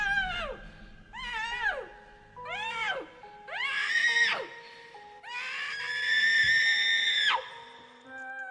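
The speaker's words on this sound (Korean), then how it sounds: "방금 비명 소리가 들렸다고요?" A run of high, wavering wails and shrieks during a livestream break, rising and falling in pitch like a scream or a cat's yowl, in several separate bursts and then one long drawn-out cry near the end.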